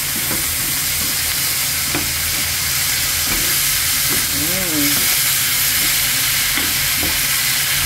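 Leftover adobo stir-fries in a wok for bihon guisado, a loud, constant sizzle with spatula scrapes and knocks at irregular intervals and a brief squeaky scrape near the middle, with no voices.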